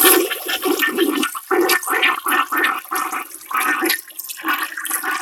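A toilet flushes in a bathroom, a loud, close gurgling rush of water that surges in repeated bursts and swirls down the drain.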